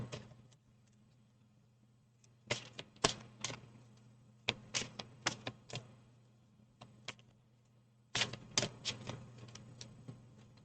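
Tarot cards are drawn and handled on a table, with sharp close taps and flicks arriving in scattered clusters between quiet pauses.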